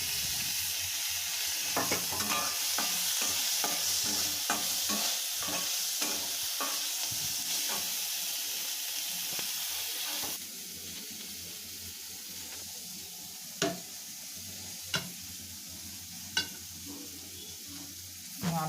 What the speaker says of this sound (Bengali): এরপরে পেঁয়াজটা দেবেন, দিয়ে নাড়তে থাকবেন।